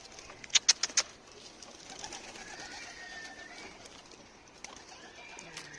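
A pigeon near its coop gives soft cooing calls, while a few sharp knocks and brief wing flutters sound early, followed by faint ambient noise outdoors.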